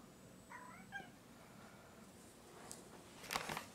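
A stray cat meowing softly nearby at breakfast time, two short faint meows early on, followed by quiet rustling and a couple of brief sharper sounds against low background noise.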